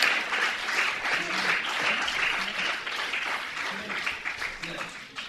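Audience claps loudly at a gathering introducing the Aftab Films team, a steady wash of hand clapping with a voice talking over it intermittently.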